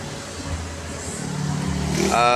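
A Honda Click 125 scooter engine idles close by with a steady low hum that rises slightly toward the end; the engine has a check engine fault logged as ECU code P0118.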